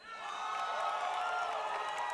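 Live esports crowd at MLG Vegas, a Call of Duty World League championship, cheering loudly for FaZe Clan, a dense sustained roar of voices and whoops swelling after a brief start and holding steady.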